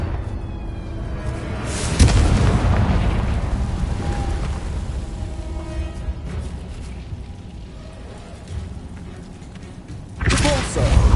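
Confringo blasting spells in Hogwarts Legacy explode in booming bursts, one strong blast early and another near the end, amid rumbling game action and mechanical effects.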